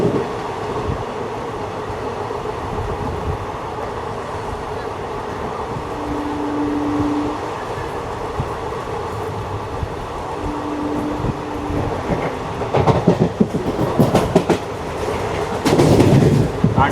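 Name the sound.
special passenger train running on rails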